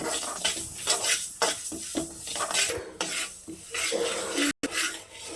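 Fenugreek seeds frying in a kadai for a gongura pickle, a spoon scraping and stirring against the metal pan in repeated strokes over a low sizzle, close by.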